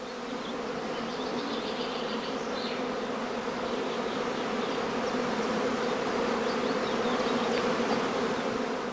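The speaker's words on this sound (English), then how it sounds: "the bees continue to move about restlessly while humming loudly" A dense, loud, steady hum of a restless honey bee swarm on heathland in northern Lower Saxony, many buzzing wings blending into one continuous drone.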